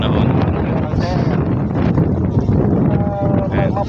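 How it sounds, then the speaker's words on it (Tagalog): Strong wind gusting across a forest clearing, a loud steady roar buffeting the microphone throughout. "sobrang lakas ng hangin dito ngayon kasi may namumuna namang sama ng panahon"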